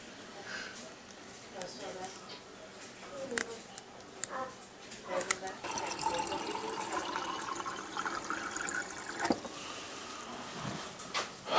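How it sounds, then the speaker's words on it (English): Water is poured from a can onto the soil of freshly potted plant cuttings, giving soft intermittent splashes and trickles, fairly quiet and close, with a few brief knocks in between. "I'm going to go ahead and water this soil so that it is good and damp."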